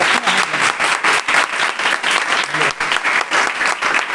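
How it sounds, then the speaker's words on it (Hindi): A crowd at a Women's Day school speech event breaks into loud, sustained applause, many hands clapping in a thick, pulsing roar that carries on without letup. "इनके लिए भी तालियां बजाइएगा"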